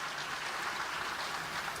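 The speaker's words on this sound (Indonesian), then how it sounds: "Kasih tepuk tangan yang meriah untuk Tuhan Yesus" Soft, steady applause from a church congregation during a Christmas sermon, sounding distant and faint, with a continuous wash of clapping.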